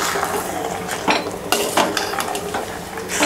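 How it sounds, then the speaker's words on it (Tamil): A hot tempering is stirred into tapioca curry, giving a loud close burst of sizzling with a spoon scraping and clinking against the pot in quick uneven strokes. "கொட்டி நல்லா கிளறி விட்டுருங்க"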